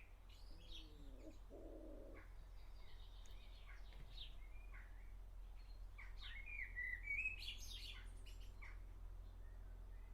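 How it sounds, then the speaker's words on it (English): Small birds chirp and squawk close to a microphone, with a low steady hum beneath; calls come in scattered bursts, growing busier and louder toward the end. "I think there's a bird's nest near your microphone."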